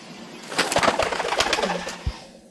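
A pigeon coos up close in a forest farm setting, a run of soft throaty calls mixed with rustling and a few sharp knocks.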